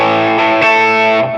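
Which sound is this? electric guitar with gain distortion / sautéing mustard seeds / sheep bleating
electric guitar with gain distortion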